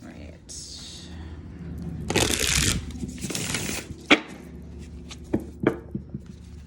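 Tarot cards being shuffled in two bursts of riffling, close and crisp, followed by a few sharp taps and clicks against a low background hum.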